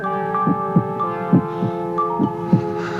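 A steady heartbeat thumps in paired lub-dub beats, about three double beats over a few seconds, set against a sustained droning musical background.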